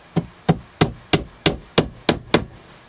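Eight sharp, evenly spaced hammer blows drive small nails into a small workshop bench, each crisp knock close and loud with a short decay, no talk.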